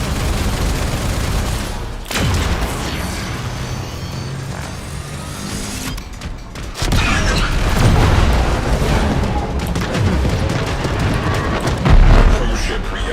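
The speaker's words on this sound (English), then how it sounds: "Cruise ship reactor has detonated." A crew ship reactor detonating in Warframe, a loud rumbling explosion that swells midway and rolls on amid dense gunfire, booms and space-combat noise.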